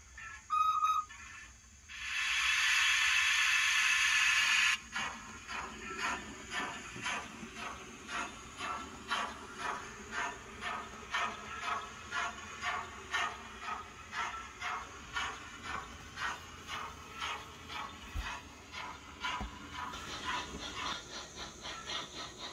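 A model steam locomotive with onboard sound, running with an auto coach, gives a loud sustained whistle followed by a steady, rhythmic chuff that carries on at an even pace under faint background hiss.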